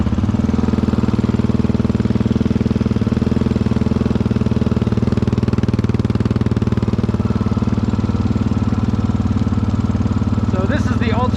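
A 2022 GPX FSE300R dual-sport motorcycle idles steadily nearby on a rich fuel map, its low, throbbing engine drone constant throughout with little change in pace.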